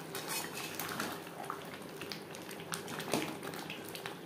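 Fried potatoes go into a pot of chicken cooking on a high flame for alu chicken kosha, with quiet clatter, metal scraping and soft bubbling under a steady low kitchen hum.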